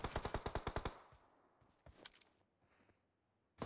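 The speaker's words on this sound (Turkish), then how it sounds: "Aha biri sıkıyor" Automatic gunfire in the video game PUBG: a rapid burst of about nine loud shots, followed by scattered fainter distant shots and a final single crack.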